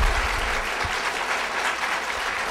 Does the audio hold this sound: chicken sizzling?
no